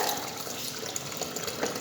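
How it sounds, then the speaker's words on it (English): Tap water runs steadily while laboratory apparatus such as a measuring cylinder and polythene bottle is rinsed, a soft continuous splashing hiss at moderate level with no talk. "Wash all the apparatus with the water."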